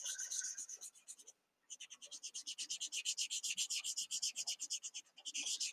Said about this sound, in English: You could blend using a tissue or a paper towel.